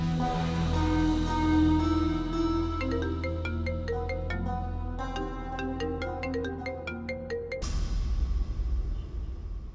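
A melodic electronic ringtone plays a repeating chime pattern for several seconds, then cuts off abruptly into a muffled rustling background.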